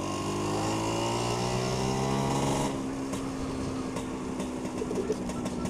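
Vespa PX125 two-stroke scooter engine while riding, a loud steady buzzing drone that shifts pitch partway through as it changes gear, with wind and road noise close by.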